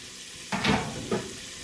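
Garlic hits a hot pan for a short sizzle in two quick bursts, a loud hiss that fades and then flares once more, with no talking.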